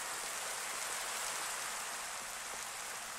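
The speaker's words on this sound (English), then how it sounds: "And of course, it starts raining. As soon as I start recording, it rains." Steady rain falls in Minecraft, a soft, even hiss of drops on surfaces that stays constant and fairly faint throughout, with no other sounds or talk.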